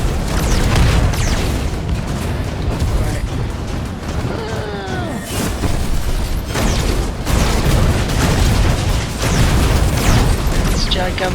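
Heavy, booming rocket explosions and gunfire from the first-person shooter game Mothergunship, with repeated loud blasts over dense, continuous combat noise and a player's voice talking briefly in the middle.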